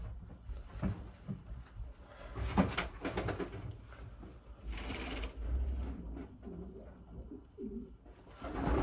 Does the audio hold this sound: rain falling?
no